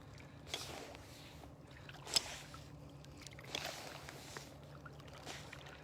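Kayak paddling on water in the morning comes through faintly, with soft splashing strokes at a slow pace and one sharper knock, over a quiet, low background.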